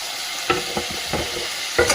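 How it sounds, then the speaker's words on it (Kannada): Tomato frying in a pan for sabaki (sabakki) uppittu, a steady close sizzle broken by several soft stirring scrapes at a slow, uneven rhythm, with no voices. "ಆಮೇಲೆ ಟೊಮೆಟೊವನ್ನು ಹಾಕ್ತಾ ಇದ್ದೀನಿ. ಸ್ವಲ್ಪ ಚೆನ್ನಾಗಿ ಫ್ರೈ ಆಗಲಿ."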